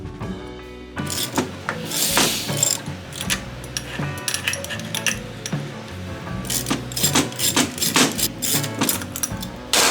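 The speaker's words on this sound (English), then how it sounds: "Using a puller, remove the timing gears from the blower shaft uniformly" A puller draws the timing gears off the blower shaft of a Detroit Diesel 4-53 rotor blower, with repeated close metallic scraping, rasping and clicking in irregular bursts.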